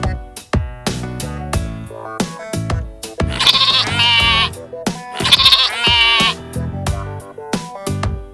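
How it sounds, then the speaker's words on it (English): A goat bleats twice in long wavering cries over a bouncy children's music backing, each call loud and up front and lasting about a second and a half. "Goat says bleat bleat."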